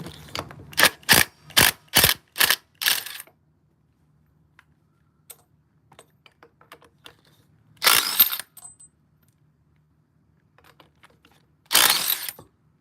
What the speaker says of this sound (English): this is just a DeWalt 3/8 impact